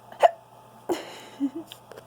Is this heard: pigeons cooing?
no